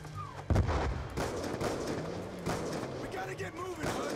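Rapid gunfire bursts from Call of Duty: Black Ops 2, a loud shot followed by repeated volleys across a busy battlefield, with shouted voices mixed in over the shooting.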